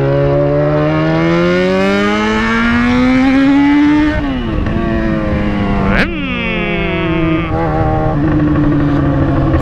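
A Yamaha XJ6 motorcycle engine revs up steadily, its pitch climbing, then drops and surges again with a sharp blip, running loud and close throughout.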